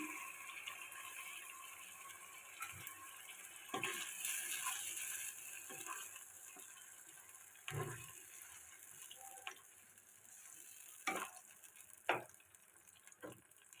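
Tomato paste frying in a pot with chicken and potatoes for a curry, giving a steady sizzling hiss broken by wet splutters and sharp clicks of a utensil against the pan, with no talking.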